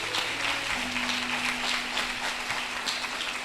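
Church congregation applauding together at a steady moderate level, dense hand claps with a low sustained hum beneath.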